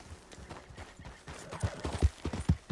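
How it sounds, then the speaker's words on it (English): Horse hooves clip-clop in a video game, a rhythmic series of dull thuds that grows louder and denser toward the end, close and unaccompanied by talk. "That horse looks like a fine traveling companion."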